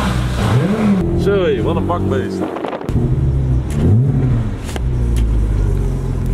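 A supercar engine revs hard at a supercar meet, loud and close, with rising and falling sweeps in pitch. People talk briefly over the engine noise.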